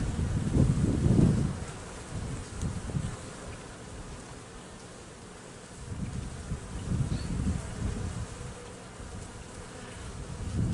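Honeybees swarming over frames during a hive inspection in a bee yard, a dense continuous buzz that swells loudly near the start and again midway, close to the microphone with light wind noise.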